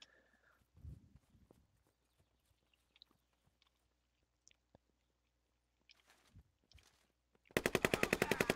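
In the video game Squad, faint distant clicks and scattered taps over near silence give way to a sudden loud burst of rapid automatic gunfire at the very end.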